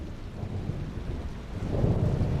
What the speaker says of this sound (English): It's supposed to be a thunderstorm.